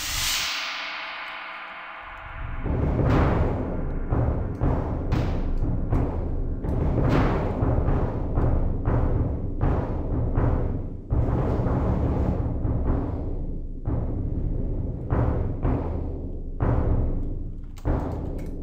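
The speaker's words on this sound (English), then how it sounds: "Then the marching band continues, and the bass drum adds." A virtual marching drum ensemble from EastWest Hollywood Orchestral Percussion plays a steady, driving cadence of snare hits with deep bass drum strokes, loud and close, after a brief quieter start.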